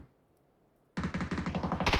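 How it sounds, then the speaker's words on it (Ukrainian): Quiet at first, then sudden rapid automatic gunfire in a video game, in dense bursts, loud and close, continuing to the end. "Там ще десь за синькою стріляють."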